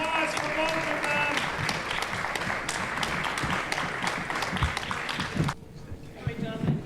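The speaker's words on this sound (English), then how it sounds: "Round of applause for both of them." Audience applause at a community forum, dense continuous clapping from a room full of people that stops abruptly near the end, leaving quieter room sound.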